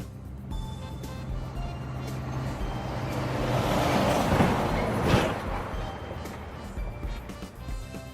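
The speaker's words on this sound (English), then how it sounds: "Trailer truck." A trailer truck out on the street, its engine rumbling as it swells closer and peaks near the middle before easing off, with repeated reversing beeps running through the noise.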